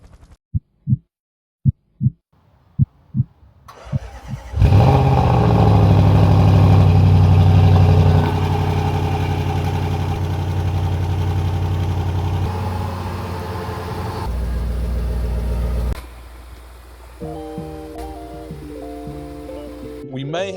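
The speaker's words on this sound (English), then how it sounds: "We are about to start her up, see if we have any leaks, any problems." A rebuilt Range Rover SVR being started: a few short cranking pulses, then the engine fires with a loud burst and settles into a steady, close idle that stays strong until near the end.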